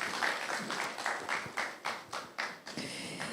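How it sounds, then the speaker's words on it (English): Applause for a presentation at a smart farming digital dialogue event, a thin smattering of claps with distinct separate slaps and decaying bursts, fading toward the end. "A round of applause for him, please."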